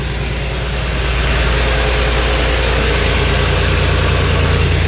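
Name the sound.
old engine running at idle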